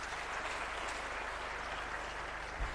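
Audience at an awards ceremony grand finale clapping steadily, a dense continuous wash of applause from a large crowd throughout, with a faint low thump near the end.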